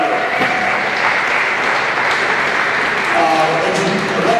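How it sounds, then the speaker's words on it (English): An audience gives a round of applause at a girls' PeeWee ice hockey championship, steady loud clapping and crowd noise in an echoing rink, with a voice faintly under it. "a huge round of applause to these two coaching staffs"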